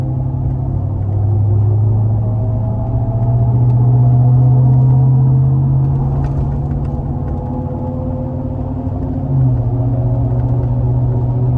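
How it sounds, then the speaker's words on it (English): A car towing a boat approaches, its engine rumbling steadily nearby, swelling a little louder midway and then easing off, with a low droning hum throughout. "Sounds like a car coming with a boat."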